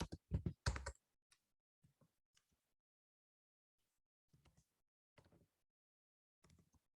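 Java code is typed on a computer keyboard: a quick burst of clacking keystrokes comes first, then sparse, faint clusters of taps separated by quiet pauses.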